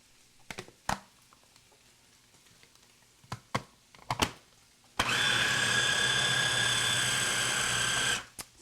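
A food processor pulses a homemade hot dog meat mix of ground beef: a loud, steady whirring grind lasting about three seconds, preceded by a few sharp knocks and clatters.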